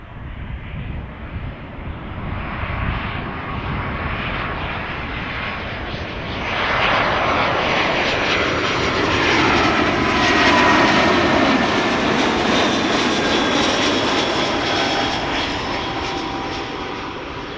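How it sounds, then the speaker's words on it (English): EasyJet Airbus A320neo arriving at Schiphol from Gatwick, its engine roar swelling as it approaches with a clear pitch sweep, peaking mid-pass and easing off slightly toward the end. "EasyJet A320neo arriving from Gatwick behind it"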